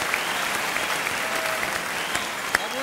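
A TV studio audience claps in a steady, even round, moderately loud, with a few sharper individual claps standing out along the way.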